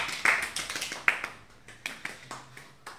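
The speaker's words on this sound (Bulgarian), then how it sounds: "да ги посрещнем прави и с аплодисменти" Scattered hand clapping at a wedding ceremony as guests welcome the newlyweds, a few sharp irregular claps that thin out, fairly close and without talk.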